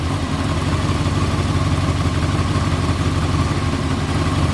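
A Honda CBR 600 F4i motorcycle engine, low on fuel, runs at a steady idle, a loud continuous rumble heard up close with nothing else over it.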